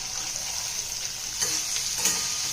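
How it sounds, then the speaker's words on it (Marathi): Onion frying in a pan with cumin seeds and curry leaves, a steady close sizzle with soft stirring scrapes and a couple of brief louder crackles, no voices. "त्याच्यामध्ये मी हा जो कांदा आहे तो भाजून घेणार आहे।"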